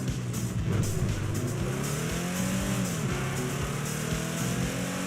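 Car engine in GTA 5 driving steadily, with a continuous droning motor that rises and falls in pitch as it revs, plus faint tire noise, loud and alone without talk.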